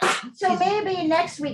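One short, sharp sneeze bursts out at the start, followed immediately by someone speaking.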